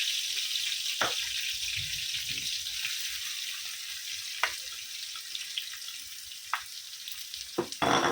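Onions frying in a pan for a cabbage sabji, a steady hiss of sizzling oil broken by a few sharp brief clicks and crackles, fairly quiet and with no talk.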